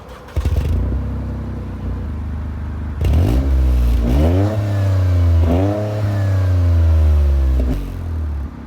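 A 300 hp Toyota GR Corolla's engine revs up through several gears, each pull rising in pitch before a shift drops it back, loud and close with a throaty, raw character.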